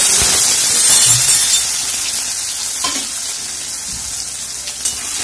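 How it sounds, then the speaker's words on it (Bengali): Potatoes fry in hot oil over a tempering of cumin, dried red chillies and bay leaf, giving a loud, continuous, close sizzle with a few faint clinks and no talking. "আলুটাকে একটু লাল করে ভেজে নেব।"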